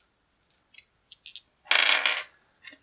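Small board game dice click and clatter as they are handled, a few light taps followed by a louder rattling burst and one last faint click, close and quiet with no talk.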